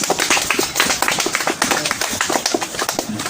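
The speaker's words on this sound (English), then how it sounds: "Give him a round of applause." A crowd claps steadily for an honorary doctorate recipient in dense, continuous applause that fills the whole stretch without letting up.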